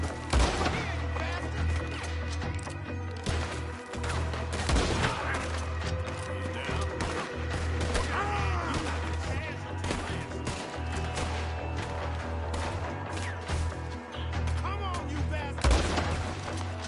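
Gunfire rattles through a Red Dead Redemption 2 shootout, with repeated sharp shots and volleys over a steady low hum, some cracks standing out loudly against constant background battle noise.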